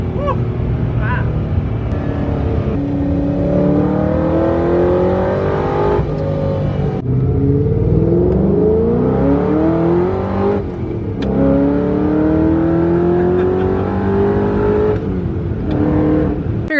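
Loud straight-piped Ford GT V8 pulls through repeated upshifts, each gear a rising roar with short breaks between, heard from inside the car as occupants talk over it.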